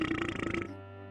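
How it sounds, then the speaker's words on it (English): A cartoon character named Danny Delk burps in the Day of the Tentacle adventure game, one short gurgling belch that fades into a low sustained tone. "or Danny Delk will continue burping"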